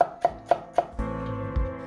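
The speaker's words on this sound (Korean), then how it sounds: "당근도 최대한 다져줄 겁니다." Knife mincing carrots on a cutting board for Korean steamed eggs, four sharp evenly spaced chops followed by a softer thud, close and clear with no talking.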